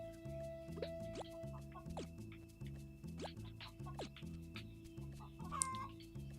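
Chickens in the farming video game Gleaner Heights, a series of short clucks and chirps over a looping, rhythmic game music track, moderately quiet with no speech.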